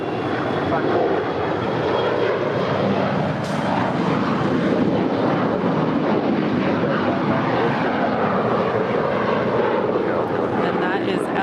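Airliner taking off from runway 25 right at LAX, a continuous loud roaring engine rumble that holds steady throughout, with voices talking under it.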